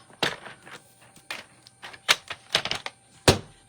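Scissors cut card paper in half with a series of close, sharp snips, several quick cuts in uneven rhythm separated by short pauses.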